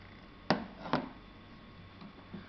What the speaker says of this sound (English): You need to chop it into tiny pieces.